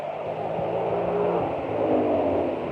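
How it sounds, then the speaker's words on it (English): A Ford Mustang speeding past near an abandoned drag strip in Charlotte, North Carolina: a steady, loud engine roar that swells slightly and then eases as the car goes by, with no talk. "The Mustang just went flying by."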